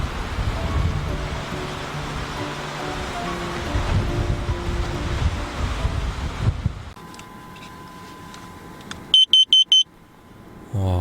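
A carbon monoxide alarm sounds inside an old Galloper used for car camping on a windy day. A short burst of rapid, piercing electronic beeps comes after a stretch of gusty outdoor noise.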